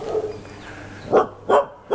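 A dog barks outdoors on a street in Chiang Mai's old city, Thailand, giving two sharp, loud barks close by after a stretch of quieter background noise.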